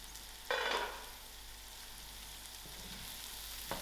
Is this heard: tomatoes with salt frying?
yes